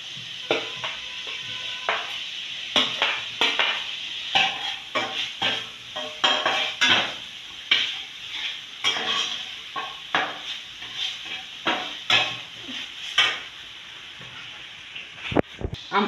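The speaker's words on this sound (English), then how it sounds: "Adding my onions now, onions and spices." Onions and spices fry in butter for a beef empanada filling, giving a constant bright sizzle with regular clinks and scrapes of a utensil stirring against the pan, close and without speech.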